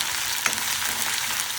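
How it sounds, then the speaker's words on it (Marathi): Cumin, dried and green chillies and ginger-garlic paste sizzle steadily in a hot pan, a dense continuous frying hiss, close and loud, with a brief stirring scrape partway through. "याला छान भाजून घ्यायचं, मस्त छानपैकी परतून घ्यायचं।"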